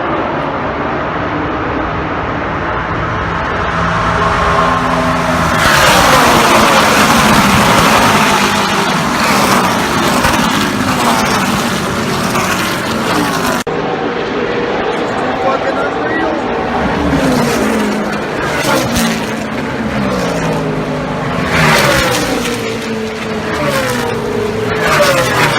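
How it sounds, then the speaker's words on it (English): Race trucks roar into the start of a truck race at Kentucky Speedway on a just-dried track, engines loud and near, pitch sweeping up and down as the field passes, a dense continuous roar throughout. "we're about to go green flag for the truck race"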